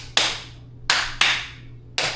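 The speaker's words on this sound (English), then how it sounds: "You're clapping out fucking time." A small group clapping out of time, producing four sharp, separate bursts of claps spaced unevenly across a couple of seconds, close and loud with quiet gaps between.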